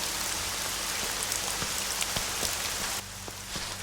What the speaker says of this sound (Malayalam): ആ മഴയല്ലേ